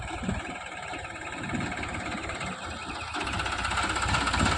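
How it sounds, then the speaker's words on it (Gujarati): A Massey Ferguson 5225 DI mini tractor engine chugs steadily with a knocking, idling rumble that grows a little louder toward the end, as if drawing nearer. "પેલું આપણું મિની ટ્રેક્ટર આવી રહ્યું છે"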